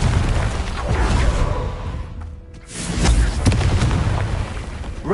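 A Confringo explosion spell going off in Hogwarts Legacy: loud, rumbling booming blasts filling most of the stretch, easing off briefly before another heavy burst.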